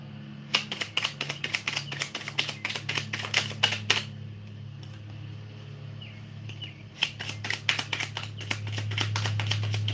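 Rapid clusters of crisp, rattling clicks in two long bursts with a pause between, like cards being riffled and shuffled close by.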